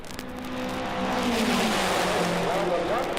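A 1963 Indianapolis 500 race car, car number 93, roaring past at speed, loud steady engine tone sliding down in pitch as it goes by, with a commentator talking over it.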